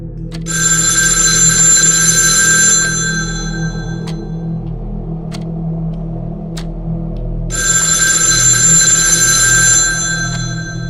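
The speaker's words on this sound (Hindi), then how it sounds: "एक बार फिर से हॉल में रखे फोन की घंटी बजती है" A telephone in a hall rings in two long bursts with a quiet gap between, loud and close over a low steady hum.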